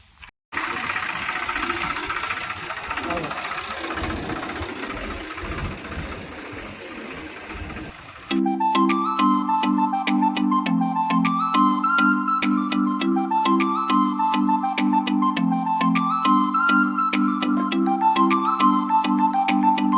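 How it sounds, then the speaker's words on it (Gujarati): Swaraj tractor engine running on a farm, a steady droning chug that starts as a rough rumble and then becomes a louder, strongly pulsing throb. "સૌરાજ ટ્રેક્ટર."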